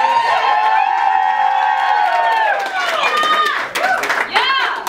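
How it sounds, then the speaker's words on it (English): At a literary salon reading night, an audience breaks into applause with loud whoops and cheering shouts over dense clapping, the voices rising and falling throughout. "It says pause for wild applause on my script."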